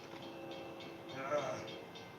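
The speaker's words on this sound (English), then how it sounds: "Here comes the train." A train pulls into a station at night as a low, steady rumble that swells slightly midway. It sits faintly in the background under a person speaking.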